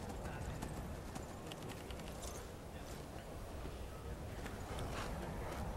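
Horse hooves clip-clop in a steady rhythm in the video game Skyrim, a continuous trotting patter set in a busy, rumbling game mix, mostly without speech.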